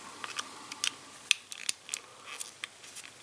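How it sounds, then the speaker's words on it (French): A screwdriver works the screw of a battery compartment on a plastic G.I. Joe Piranha attack boat toy, giving quiet, irregular clicks and scrapes close to the microphone. "Et donc on va devoir dévisser ici pour pouvoir installer les piles"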